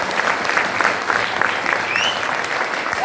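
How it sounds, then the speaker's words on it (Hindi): An audience at a business seminar breaks into enthusiastic applause, a dense, steady clapping from many hands filling the room for a few seconds. "एक बार चाहूंगा जोरदार तालियां मार"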